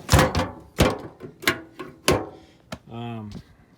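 Doors of a service truck being shut one after another, several solid thunks and slams close by in an uneven rhythm, followed by a brief creaking tone.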